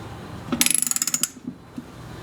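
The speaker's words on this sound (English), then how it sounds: "we're going to gently and slowly thread this in with the socket until it's snug in the oil pan" A socket ratchet clicks in a quick run of about a dozen sharp ratcheting ticks while a plug is threaded into an aluminum oil pan, followed by a couple of softer isolated clicks, close and clear, with no talking.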